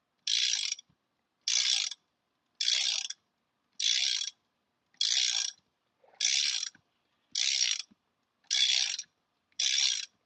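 A ratchet fitted with a T45 bit loosens a seat hinge bolt on a Jeep Cherokee XJ, giving nine short, evenly spaced bursts of clicking with quiet gaps between them, close and clear.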